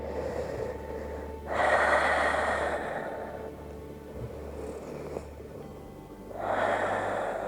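Slow, close breathing from someone resting face-down on a yoga mat after locust pose: two long, airy breaths swell and fade with quiet pauses between, no talk.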